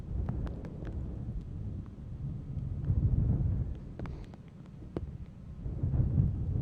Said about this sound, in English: you can actually hear the wind even through our headphones here